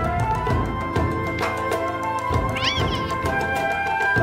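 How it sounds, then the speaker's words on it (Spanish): A cat meows clearly and fairly close, a single rising-falling call near the end of a brief clip set against a game soundtrack, with no talking. "El gatito."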